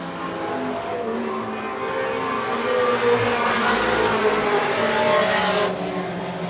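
Race cars running four wide down the backstretch of a short oval in an Outlaw Mini feature, their engines a dense, steady roar close by that rises slightly in the middle of the pass.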